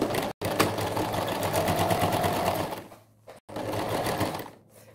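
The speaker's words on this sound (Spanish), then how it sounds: "vamos a coser la otra costura que es paralela" A sewing machine stitches a parallel seam, its fast needle whirring loud and close in two runs separated by brief stops, then slowing to a halt.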